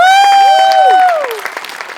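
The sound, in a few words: audience applause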